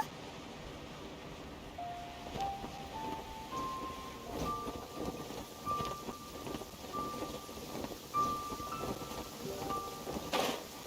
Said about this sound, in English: It's raining again?